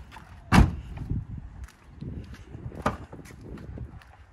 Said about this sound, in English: let me see if this door closes nice real quick